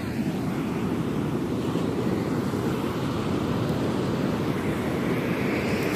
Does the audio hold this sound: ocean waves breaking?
yes